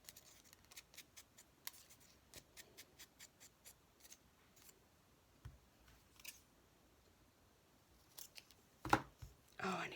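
Scissors snip paper while pages for a recipe keeper cookbook are trimmed, giving faint, quick, crisp cuts in irregular runs, with light handling and paper rustle, quiet throughout and louder toward the end.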